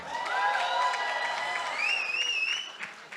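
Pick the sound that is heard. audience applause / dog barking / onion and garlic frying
audience applause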